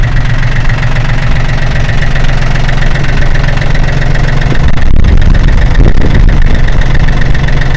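A tractor engine runs loud and close on a snowy ranch, a continuous steady rumble with a rough knocking idle that swells slightly midway.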